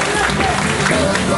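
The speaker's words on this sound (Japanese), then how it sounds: "拍手。" Applause from the crowd at a street dance championship judge showcase, a short dense burst of clapping mixed with crowd noise and voices.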